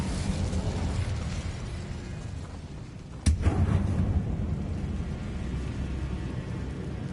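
The Incendio fire spell cast in Hogwarts Legacy: a single sudden fiery burst midway, over a steady game ambience that continues before and after.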